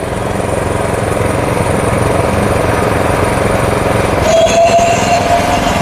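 A 7hp power weeder rotavator engine runs loud and close with a constant buzzing drone, unaccompanied by voices.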